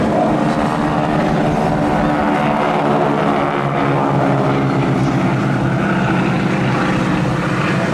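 A Boeing biplane carries a wingwalker at a seaside airshow in Rhyl, its propeller engine droning loud and steady throughout without a break.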